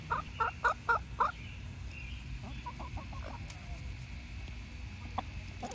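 Backyard chickens cluck in a close burst of five sharp calls, followed by softer, quicker clucks and scattered pecking taps as the flock works at a frozen summer treat.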